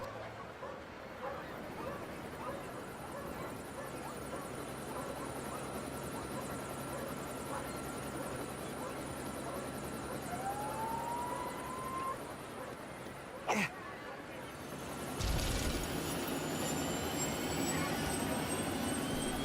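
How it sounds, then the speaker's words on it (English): Steady whirring drone of a LEGO police chopper flying in the video game LEGO City Undercover, continuous and even, with a brief sharp click and a louder shift near the end. "I went back to the Cherry Tree Hills helipad to get the chopper to fly it to Albatross Island."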